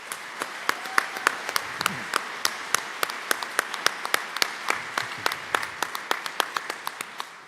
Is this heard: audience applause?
yes